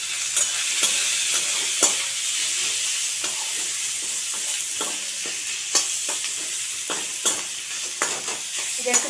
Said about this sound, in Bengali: এটা একটু 2-3 মিনিট নেড়ে চেড়ে নেব